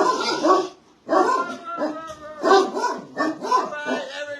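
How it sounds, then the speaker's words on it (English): A small Rottweiler and Jack Russell cross dog barks and yips repeatedly at close range, loud and insistent, with short whimpery notes between barks. "She's probably a Rottweiler crossed with a Jack Russell."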